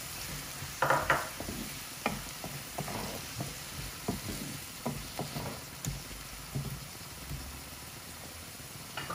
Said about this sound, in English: Chopped tomatoes in.